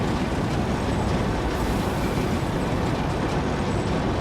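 A video game train engine runs in its engine room with a dense, continuous rumbling roar. The sound is loud and unbroken, with no voices.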